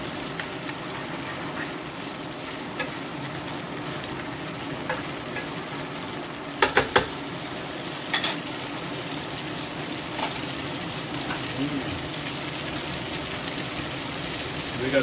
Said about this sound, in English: Basically pork fat. So we cook it